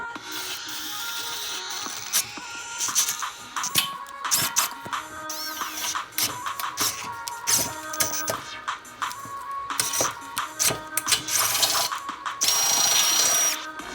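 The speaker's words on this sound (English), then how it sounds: "I'm gonna go ahead on and use my 11/16 bit that we have sized up to be able to tap and thread in." A power drill with an 11/16 bit bores a hole for a turbo oil drain fitting on an LS 6.0 Monte Carlo build, heard as a loud, close, fluctuating whine with stops, restarts and grinding bursts of metal.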